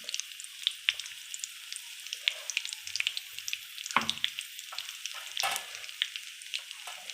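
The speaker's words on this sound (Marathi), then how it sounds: "आता आपल्याला ह्याला फोडणी द्यायची आहे।" Curry leaves and cumin tempering in hot oil for a matar paneer masala, crackling and sizzling with sharp pops and spits scattered irregularly, a couple of louder bursts near the middle, close and without talk.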